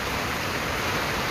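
Heavy rain pouring down in a steady, dense hiss with no break, close and loud, no voices over it.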